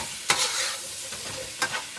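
Hot chili peppers sizzle in a pan for creamy chicken and sausage alfredo, a close steady frying hiss punctuated by two sharp stirring scrapes.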